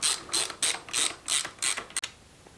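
A torque wrench ratchets on the front pinch bolt of a 1999 FXST motorcycle, producing about six quick bursts of close, crisp clicking strokes with short pauses between them.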